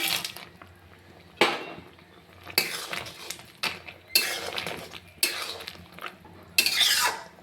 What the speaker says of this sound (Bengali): এবার এর মধ্যে ভেজে রাখা তেঁতো করলা আর ডালের বড়িটা দিয়ে দিব।